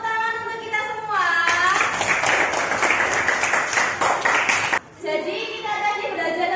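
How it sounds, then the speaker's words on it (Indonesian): Applause and clapping in a classroom, a dense burst of hands lasting a few seconds with a short break, while children and a teacher talk before and after. "Tepuk tangan untuk kita semua."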